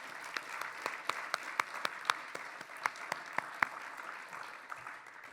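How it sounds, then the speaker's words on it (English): Audience applause for an award winner at a digital forestry conference, sparse individual claps standing out over a softer bed of clapping in a hall. "So let's give him another round of applause for that."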